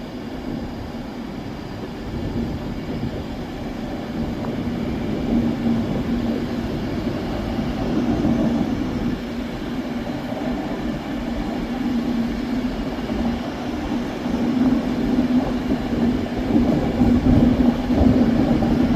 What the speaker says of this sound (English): Next we have 390141 with 1 Mike 13, 1 M13 from Glasgow Central to London Euston.